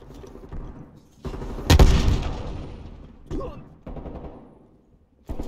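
Gunfire in Call of Duty Cold War team deathmatch multiplayer: scattered bursts of shots and one sharp loud blast amid game noise, with someone talking over parts of it.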